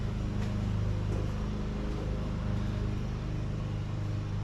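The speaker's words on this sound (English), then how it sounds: "this is the first time I am pulling the Mustang out of the garage." A Ford Mustang Foxbody's engine rumbles steadily and deeply as the car is pulled out of a garage, a continuous loud drone with no pauses.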